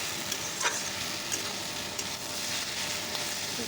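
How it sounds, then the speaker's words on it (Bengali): Ash gourd fries in a pan, a continuous crackling sizzle of hot oil with occasional louder pops and stirring scrapes, steady and moderately close without talk. "আর এখানে চাল কুমড়া ভাজা হচ্ছে"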